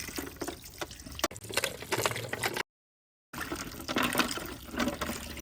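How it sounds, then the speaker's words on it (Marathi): Water splashes and sloshes as Indian gooseberries (amla) are washed by hand, in two stretches broken by a brief silent gap, fairly close and no talking. "आपण आता आवळे स्वच्छ धुवून घेऊ"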